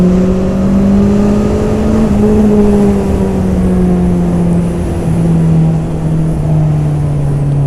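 A 2021 Honda CB650R motorcycle runs steadily around a race track, its engine a loud, continuous drone with a slowly shifting pitch that dips gently as the bike eases through a corner.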